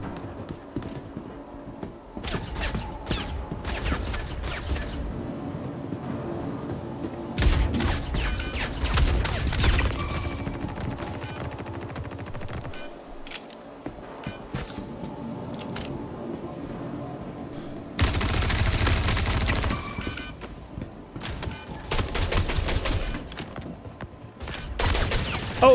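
Pump-action shotgun in a video game fires in several loud bursts, each a broadband blast followed by a rumbling tail, spaced irregularly across a busy in-game soundscape.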